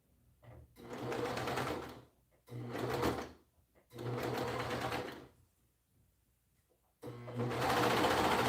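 A sewing machine stitches through three thick meeting seams at the crotch of a garment in four close, loud bursts of rapid whirring separated by short pauses.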